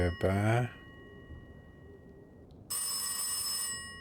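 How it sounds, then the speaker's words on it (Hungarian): Upstairs in the video game Last Days of Lazarus, a telephone rings with a bright, steady electronic trill that cuts in abruptly after a quiet stretch, following a short burst of voice at the start. "a fönti telefon csörög"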